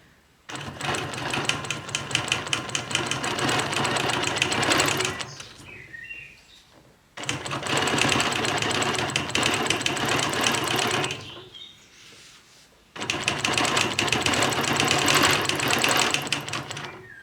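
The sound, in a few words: sewing machine quilting a shape along a Petunia ruler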